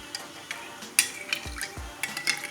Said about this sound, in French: Donc on mélange tout ça et on remue.